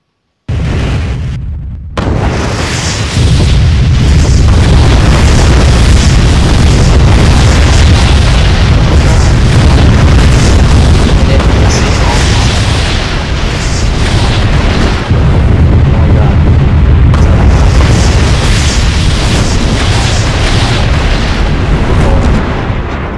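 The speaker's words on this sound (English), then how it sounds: "You'll see a lot of other explosions." Loud, continuous rumbling booms from nuclear explosions in Garry's Mod, one blast rolling into the next with a dense roar, broken briefly near the start.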